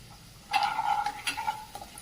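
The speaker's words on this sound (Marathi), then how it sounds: "कांदा व्यवस्थित परतून घ्यायचा" Finely chopped onions sautéing and being stirred in a pan for Maharashtrian misal pav, a soft sizzle with scraping stirs, fairly close, no talk.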